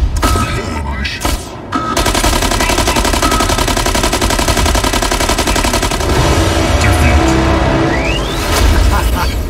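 Loud, dense video game gunfire with rapid machine-gun bursts and heavy booms, nearly continuous throughout the clip after a brief early lull.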